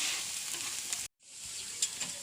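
Dried fish frying in a pan for a lunch of dal and drumsticks, giving a steady bright sizzle that cuts out for a moment and then resumes, close and continuous with no talk.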